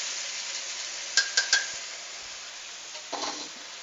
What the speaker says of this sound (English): And we'll stir fry this.